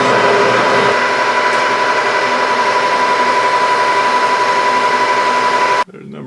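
A Grizzly G4003G metal lathe turns a bullet-shaped part for a Piper Supercub, giving a steady, loud mechanical drone with a fixed whine that runs unbroken for almost six seconds before cutting off abruptly.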